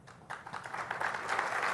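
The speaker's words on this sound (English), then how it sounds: "I'll give you a clap on that one too" An audience applauds at a tech conference session, a soft, brief patter of clapping that swells slightly over under two seconds, heard from a distance.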